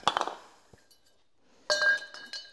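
A 5/8 socket clinks metallically while bolts are removed from a Husqvarna lawn tractor blade, a quick cluster of bright taps followed after a pause by a louder ringing clink, close.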